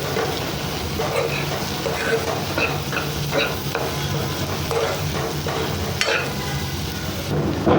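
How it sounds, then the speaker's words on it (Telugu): Egg and rice stirred together in a hot pan for egg fried rice: repeated spatula scrapes and clinks over a steady, close sizzle, with no one talking. "సో ఇప్పుడు ఇది మొత్తం కలిపేసుకుందాము. ఎగ్ అనేది బాగా ఫ్రై అయిపోయింది."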